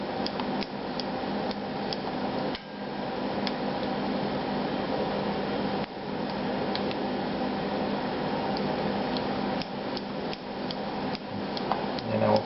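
Oboe cane being gouged on an Opus1 gouger: a steady scraping, shaving texture runs continuously at close range with small clicks and knocks from the bed, with no voice.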